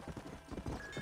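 Horse hooves clip-clop in a rhythmic, steady run in the Red Dead Redemption video game, faint and close together with soft ambient game sound underneath.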